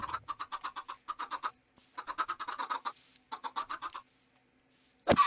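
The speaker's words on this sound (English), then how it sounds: "What is with all these evil chickens?" Chickens in Minecraft cluck in quick rhythmic bursts, several runs of clipped clucks separated by short pauses, fairly quiet and with no talk over them.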